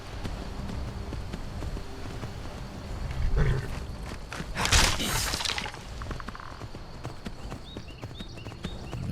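Hooves of a player's horse in the video game Skyrim clop steadily under a continuous rumbling bed, with a sharp crash near the middle and some scattered game effects.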